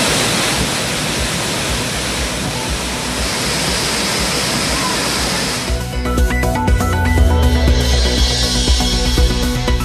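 Heavy water flow roars steadily at Thirparappu falls as a dense, broadband rush for about six seconds, then gives way to music.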